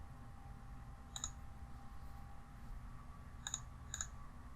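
Computer mouse clicks, three short crisp ticks spaced apart over quiet low room hum, close and faint.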